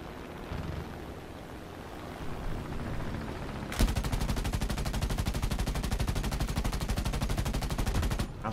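In War Thunder, rapid machine gun fire bursts in loud and close after a few seconds of rumbling background noise. It sustains a fast, even rattle for about four seconds, then cuts off.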